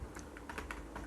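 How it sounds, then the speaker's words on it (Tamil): Keys clatter on a computer keyboard as data is entered into a Microsoft Word document: quick, light, irregular taps close to the microphone, faint and with no talking. "நேம் டைப் பண்ணிவிட்டேன்."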